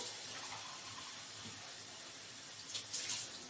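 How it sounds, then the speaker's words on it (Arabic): Water streams quietly into a cooking pot holding onion and garlic for Alexandrian sayadeya rice, a soft, steady pour with a slightly stronger gush near the end. "هنحط بقى مقدار الميه"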